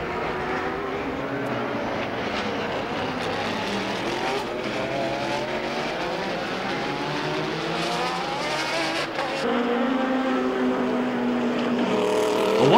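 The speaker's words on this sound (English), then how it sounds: "the big Sauber bucking over the Norisring bumps" Sauber sports-prototype race car from the 1987 World Sports-Prototype Championship at the Norisring, its engine held at full throttle in a loud, sustained roar that swells slightly near the end, with no talk over it.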